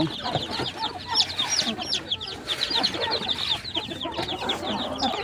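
Dense, overlapping high chirps and clucks of a caged flock of native chicken chicks, up close and steady as they crowd toward fresh water and feed.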